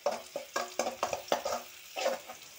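Onions tipped into hot oil in a pan, giving a string of short, close sizzling bursts with stirring clatter, about six quick surges, one after another, with no talk.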